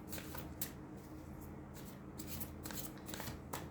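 Tarot cards are handled and drawn close up in a quiet room: soft riffling and sliding flicks in several short bursts over a faint steady hiss, with no voices.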